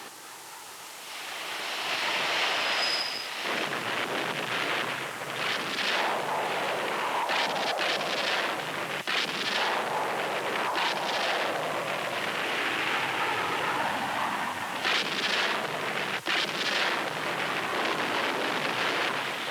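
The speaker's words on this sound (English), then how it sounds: "Bomb and rocket hits, starboard aft." Bomb and rocket hits strike the starboard aft of a navy ship in a 1960s training drill, a long heavy roar of blasts and rumbling noise with several sharper cracks, loud and continuous without speech.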